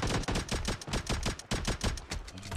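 Rapid bursts of pistol gunshots in PUBG Mobile zombie mode, many sharp loud cracks fired in quick uneven succession, close and dense with barely a pause between shots.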